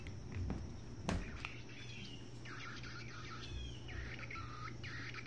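A Brown Thrasher call plays from a Wild Republic Audubon plush toy bird, a series of short electronic chirps and warbles at moderate volume over faint background hum.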